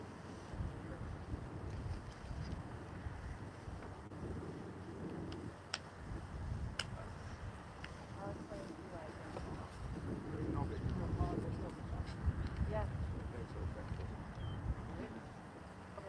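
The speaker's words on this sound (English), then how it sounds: "it's a little bit breezy." Wind gusts outdoors at a graveside funeral service, a steady, rushing roar buffeting the microphone throughout, swelling slightly midway, with faint voices beneath.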